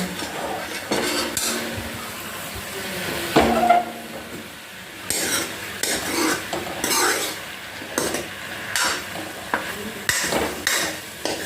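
A spoon stirs vegetable curry in a pot, with repeated scraping and knocking strokes over a low sizzle, steady and close throughout.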